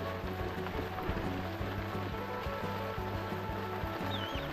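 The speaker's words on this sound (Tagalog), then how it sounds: "Ayan, lumakas na yung ulan oh" Rain grows heavier in the Philippines, a steady close wash of hiss with low droning hum and scattered patter running unbroken throughout.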